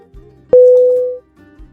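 A single loud telephone tone sounds once for under a second after a call is hung up, then cuts off, with faint background murmur before and after.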